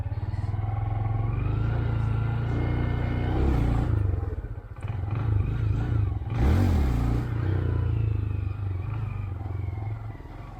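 A 2022 Honda Grom motorcycle engine revs and idles close by during wheelie practice, with a couple of sharper throttle surges and some clatter, and no talking.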